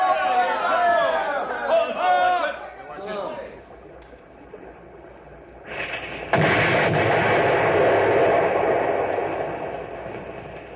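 People shout over background noise, then a deep, booming dynamite blast erupts and rumbles on for several seconds before slowly fading.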